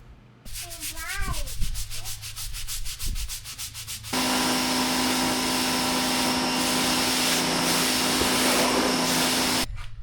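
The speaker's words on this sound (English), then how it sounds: "I'll let it sit for a few minutes, power wash it again." A pressure washer sprays concrete steps being cleaned of stripped sealer, a loud, steady, close hiss with a low hum running for about six seconds after a quieter stretch of scattered sounds.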